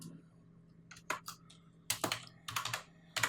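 Someone types text on a computer keyboard, with a few isolated clicks followed by quick clustered bursts of keystrokes, close and fairly soft against a quiet background.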